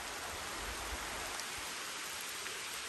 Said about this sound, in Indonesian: Ini baru dapat 2 malah hujan deras ya teman-teman.